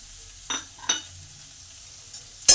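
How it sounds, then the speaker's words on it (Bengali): Potatoes sautéed with spices in a pan are stirred with a spoon: a few separate scrapes and clinks against the metal over a quiet, faint sizzle, with a sharper knock at the end. "আলুটাকে ভালো করে কষে নেব এই মশলাগুলোর সঙ্গে"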